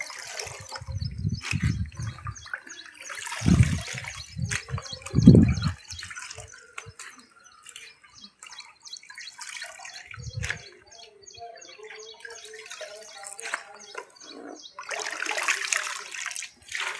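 Cooked potato slices being rinsed by hand in water, with splashing and sloshing bursts at intervals between quieter stretches.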